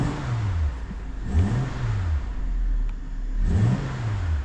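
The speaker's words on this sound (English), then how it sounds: "let's give it a little rev and see what it sounds like" A BMW M340i xDrive sits parked with a cold engine as it is revved twice, each blip rising and falling in pitch between steady idle, loud and close with no talk.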